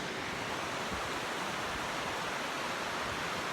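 Steady broadband rush of river water at Falls Rivulet in Tasmania, a constant close roar with no breaks and no voices.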